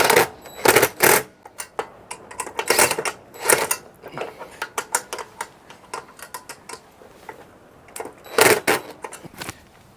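Metallic ratcheting clicks and taps from tightening a nut on an RV awning bracket, irregular bursts of close, sharp mechanical ticks with short pauses between them.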